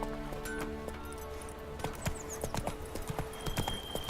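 Horse hooves clip-clopping at a steady trot in The Witcher 3: Wild Hunt, a regular rhythmic beat under game ambience and faint music, with a voice speaking briefly.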